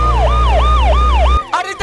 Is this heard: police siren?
yes